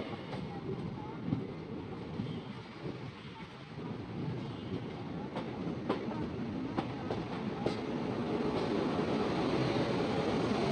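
Freight train running near Rourkela while another freight train overtakes it, a continuous rumbling roar with rhythmic clickety-clack of wheels on rail joints and wind buffeting, growing louder toward the end.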